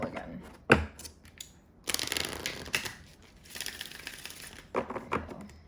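Tarot cards being shuffled by hand in several bursts of riffling and sliding, crisp close papery rattles separated by short quiet pauses.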